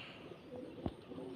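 A guest pigeon coos over the house, soft and somewhat distant, with a few low cooing notes and one sharper knock in the middle against a quiet background.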